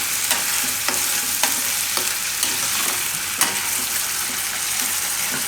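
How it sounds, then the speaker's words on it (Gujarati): Onion paste for paneer bhaji fries steadily in a pan, a continuous sizzle broken by regular light scraping clicks of stirring, close and alone with no talk. "હવે આમાં આપણે નાખી દઈશું આ ડુંગળીની પેસ્ટ. તો આને થોડીક વાર પકાવી લઈશું."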